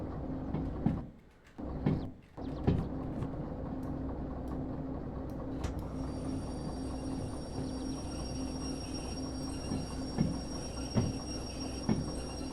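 A locomotive in the train simulation game Derail Valley starts rolling on rails, a steady low mechanical rumble with a constant hum, broken early by a few brief clanks and dips, then a high whine joining the drone.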